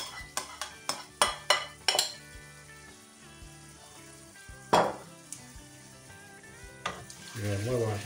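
Chicken pieces sizzle in a pan with caramelized onion for fajitas. Several sharp clinks and scrapes from stirring come near the start, with a steady fry underneath and one louder clatter midway.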